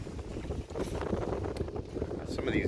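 Wind gusts buffet a heeling sailboat on Puget Sound, making a continuous rushing roar with water noise and occasional creaks and rattles from the boat.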